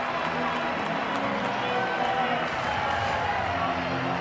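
Baseball crowd at Coors Field rising to its feet with two strikes on the batter, a dense, steady roar of cheering and murmur with a commentator's voice over it.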